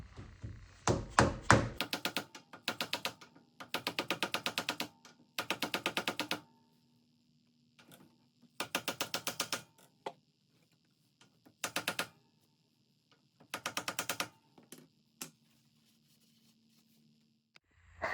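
A new axle seal is driven into a Moser 10 bolt differential housing with a series of rapid hammer-like tapping bursts, each a quick run of sharp metallic knocks, separated by short pauses, close and fairly loud with no talk.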